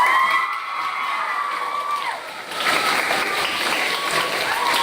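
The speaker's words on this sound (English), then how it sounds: "Let's give her a big round of applause." An audience at an elementary school ceremony applauds for the principal, with cheering and children's shouts swelling into a loud, dense burst of clapping after a brief tail of something else.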